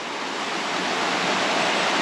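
Continuous rush of water flowing in Christmas Creek, a broad steady hiss close by with no breaks or voices.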